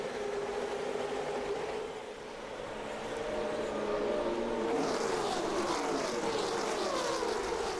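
A pack of race cars drones past at Talladega during the 2008 Aaron's 312, a loud, steady engine roar that swells and shifts pitch as the field speeds by, with no commentary heard.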